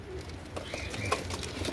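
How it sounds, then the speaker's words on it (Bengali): Andhra pigeons in an aviary give a few soft, close coos over a low background hum, brief and gentle. "যা পায়রা আছে সবই আন্ধ্রা পায়রা আছে, সব আন্ধ্রা।"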